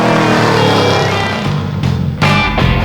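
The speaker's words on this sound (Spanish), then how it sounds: "el sistema de escape específico del coche con los escapes laterales con este sonido brutal" A 1969 Chevrolet Corvette C3 V8 with side exhausts rumbling loud and close, a deep throbbing note that dips briefly and then surges with sharp throttle blips near the end.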